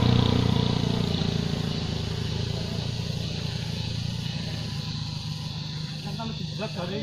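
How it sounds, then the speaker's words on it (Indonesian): A motorcycle engine drones past on a hillside road, a steady mid-level hum that lingers without a sharp peak, with people's voices faint in the background. "Awas, ada motor."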